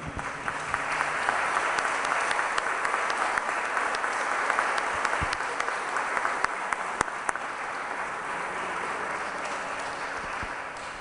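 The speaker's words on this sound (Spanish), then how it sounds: "Podemos aplaudir." A congregation applauds throughout a Dominican friars' profession of vows ceremony, a dense, steady wash of many hands clapping that holds at an even level for the whole stretch, with a few louder claps standing out.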